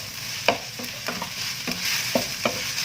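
Corn vermicelli is stirred and tossed in a pan for a Malaysian-style mee siam, with about seven soft scraping, clattering strokes at an irregular rhythm over a steady sizzle close by, and no talking.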